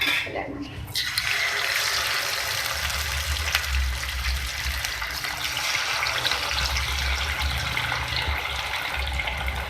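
Masala-coated fish sizzles in hot oil with a steady, dense hiss and crackle throughout, close and fairly loud, after a brief quieter moment at the start.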